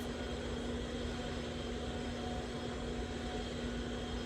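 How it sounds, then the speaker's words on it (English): A vacuum cleaner runs with a steady, loud motor hum and an unbroken whine that fills the whole stretch, with no talk over it. "Sorry, a vacuum just started."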